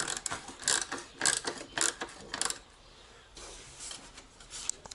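A ratchet on a 10mm socket extension works bolts on a Lamborghini Gallardo Spyder during a clutch change, several quick bursts of clicking followed by quieter fumbling and faint mechanical handling.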